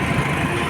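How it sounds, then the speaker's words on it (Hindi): A rental motorbike's engine runs at a steady idle, a loud, even low-pitched rumble with constant vibration and no changes in rhythm or speed, with no talking over it. "हमारा बाइक स्टार्ट हो गया है"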